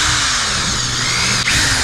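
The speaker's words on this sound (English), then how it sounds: "we're resorting to a drill" A power drill whines continuously at high speed, loud and close, with a brief dip in the motor noise partway through.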